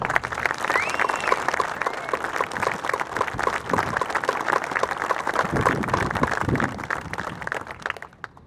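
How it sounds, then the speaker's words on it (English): A crowd at a naval frigate decommissioning ceremony gives sustained applause for the shipyard mechanics and welders of Bath Iron Works, a broad, even wash of many hands clapping for about eight seconds, with a few faint voices mixed in. "I would like to ask for a round of applause for the mechanics and the welders of Bath Ironworks"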